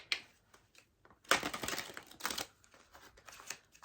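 Quick bursts of riffling tarot-style Osho cards, a short flick followed by a longer crisp flurry of snapping and rustling, close and fairly quiet.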